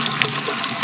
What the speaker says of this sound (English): And then we can turn the water on.